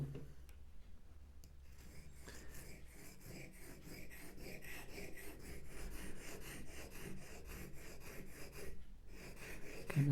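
A woodworking gouge being sharpened on a 1500 grit stone, giving a steady, soft, rhythmic scraping of back-and-forth strokes, close and quiet, with no talk.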